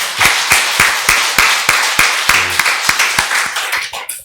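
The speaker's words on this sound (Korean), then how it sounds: "1층에 들리도록 큰 박수로 우리 환영하겠습니다" A church congregation claps in welcome during a Sunday service, a steady run of sharp, evenly spaced claps that sounds like a few nearby hands in a room, fairly loud and alone without speech.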